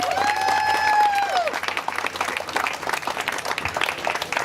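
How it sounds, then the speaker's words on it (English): Audience applause at a campaign event for an Oxnard city mayor candidate, a broad wash of clapping that runs throughout, with a brief voice or whistle tone near the start and a crowd murmur underneath. "So let's give her a round of applause."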